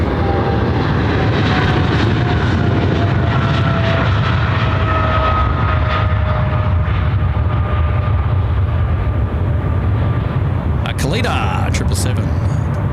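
A DHL Kalitta Boeing 777 freighter departs Sydney Airport with a loud, steady jet roar and a thin engine whine running through it, and a voice talks over it at times.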